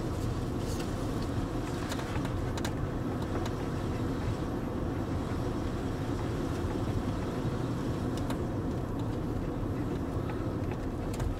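A Land Rover Range Rover L322 drives and accelerates, giving a steady, dense engine and road rumble heard from inside the car, continuous and moderately loud with no talking.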